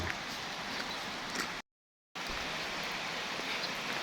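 Steady, dense rain falling outdoors at a temple in the morning, a continuous broadband hiss broken by a brief half-second of silence midway.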